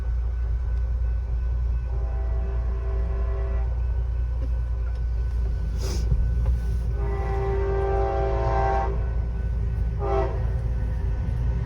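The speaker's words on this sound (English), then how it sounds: "Of course, we're gonna have a train." A fast train rushes past a 1954 Ford F100 pickup, its steady rail roar under low engine hum and a long, loud horn blast that returns in two later sounds.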